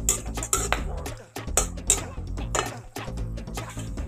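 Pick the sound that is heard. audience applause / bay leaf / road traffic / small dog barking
bay leaf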